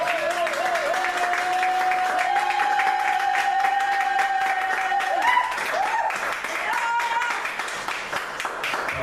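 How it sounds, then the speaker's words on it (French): A church congregation bursts into sustained applause and cheering, dense clapping filling the space at steady loudness for several seconds, with sustained whistles or shrill voices rising above the crowd. "Est-ce que nous pouvons acclamer pour la gloire de Dieu?"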